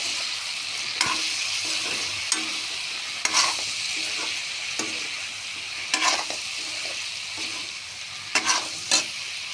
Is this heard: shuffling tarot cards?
no